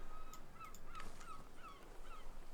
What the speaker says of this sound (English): Oh, and there's ambient birds.